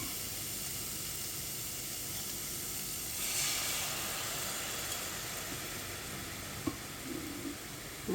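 Green papaya simmering with dark jaggery syrup for Onam payasam gives a steady low sizzle and hiss, swelling briefly midway, with a couple of faint clicks near the end.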